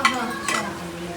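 Spices and asafoetida powder crackle and sizzle loudly in hot oil for tempering, a sharp spit at the start and another burst midway, close up with a steady hiss underneath.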